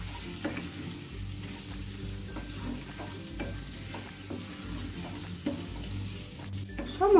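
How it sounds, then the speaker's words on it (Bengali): Pointed gourd that was fried earlier, now stirred and sautéed with spices in a pan, gives a steady low sizzle with scraping stir strokes scattered throughout, close and moderately loud, no voices. "সব মশলার সাথে পটলগুলো 2 মিনিট একটু কষিয়ে নেব।"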